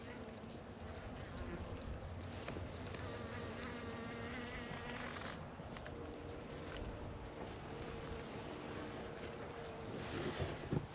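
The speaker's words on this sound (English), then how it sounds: "So there are bees that are, their job is to clean the hive." Honey bees at a hive where worker bees carry dead bees out, a dense steady buzzing swarm close to the microphone with wind noise, continuous for the whole stretch.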